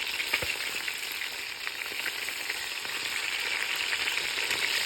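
Cajun sticky chicken pieces frying in a pan just after flipping, a dense, even hiss of sizzling oil close up, steady throughout with a faint tap early on and no voices.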